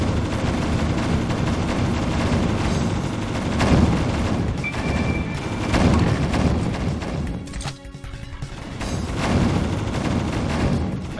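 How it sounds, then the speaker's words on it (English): A minigun and other weapons fire continuously in the ShineG Seafight game, dense rattling bursts and booms layered over each other with few pauses. "I have just a rocket launcher and another fucking minigun just shooting in the background"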